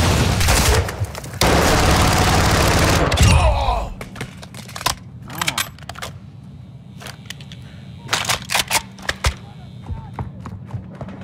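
Gunfire in Call of Duty DMZ: a loud, sustained barrage of rapid shots for the first few seconds, then scattered single cracks and short bursts at irregular intervals.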